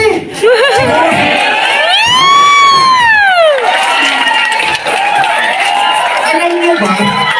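A large crowd shouts and cheers at a big indoor company event, loud and sustained, with a rising-and-falling whooping squeal over the top and scattered voices throughout.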